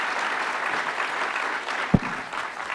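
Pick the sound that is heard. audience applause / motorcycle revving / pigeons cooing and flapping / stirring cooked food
audience applause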